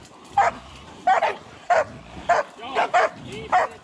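Hunting dogs bark in a South Georgia hog hunt, a string of about seven sharp, loud barks spaced roughly half a second apart, with low background rustle and voices nearby.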